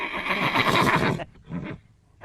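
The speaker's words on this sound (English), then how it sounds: "Horses are heavily vetted and trained for 6 to 8 weeks to make sure they are ready to assist with therapy." A horse at a therapy program gives one loud, close whinny, followed by softer snorts and a short final call.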